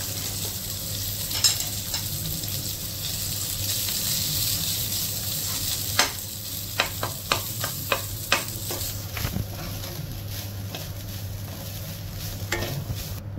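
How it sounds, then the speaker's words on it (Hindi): Garlic frying in hot oil for a Goan wild mushroom xacuti, a steady sizzle broken by a run of sharp spoon taps and scrapes against the pan in the middle. "तेल आता गरम झाले, तातून हांव घालता लसूण"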